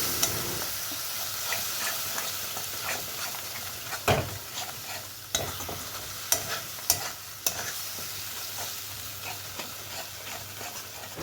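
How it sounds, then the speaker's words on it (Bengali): Mutton masala with yogurt is sautéed in a pan over a low flame, giving a soft continuous sizzle with a spoon scraping and knocking against the pan in irregular sharp taps. "যতক্ষণ না এর থেকে তেল বেরিয়ে আসছে ততক্ষণ কিন্তু এই মশলাটাকে কষিয়ে যেতে হবে"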